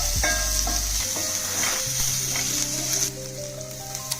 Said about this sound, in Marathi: मोठा चिरलेला कांदा टाकून परतून घेऊया हा कांदा चांगला सोनेरी कलर येईपर्यंत परतून घेऊया